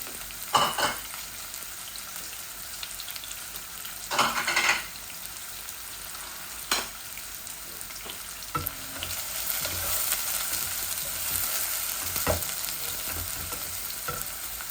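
Medium-sized onions frying in a pan, a steady hiss and sizzle with a few sharp clinks and scrapes as a utensil stirs them. The sizzling grows slightly denser toward the end.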